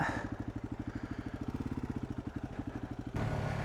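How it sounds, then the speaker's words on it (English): A fuel-injected motorcycle engine fires up and settles into a steady, rapid putting idle, its regular pulses continuing close and clear before the sound abruptly changes near the end. "This is why I like fuel injected bikes. Starts right up."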